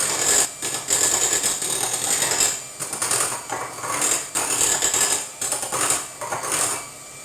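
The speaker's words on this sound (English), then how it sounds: "I'm whisking on medium speed to save the noise" An electric mixer whisks meringue of egg whites and caster sugar at medium speed, giving a loud, steady mechanical whirring and rattling that pulses with short dips as the beaters move around the bowl.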